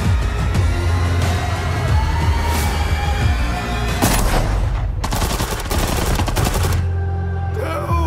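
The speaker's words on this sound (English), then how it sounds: "I'm starting to shoot right now!" Gunfire in the video game Chernobylite, loud dense bursts of rapid automatic shots rattling almost continuously with brief gaps, close and dominant, no talking.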